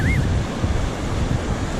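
Sea waves wash and splash close by near a shipwreck, a loud, steady roar of surf and wind buffeting the microphone, with a brief high whistle or call at the start.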